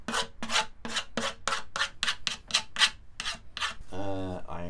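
Rhythmic rasping strokes of sandpaper on a wooden guitar body edge, about a dozen quick back-and-forth passes up close, ending in a brief tonal scrape.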